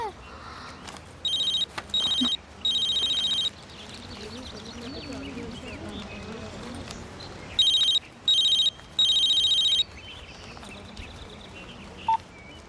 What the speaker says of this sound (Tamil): என்னடி சிம்மு போடாம போன் அடிக்குது?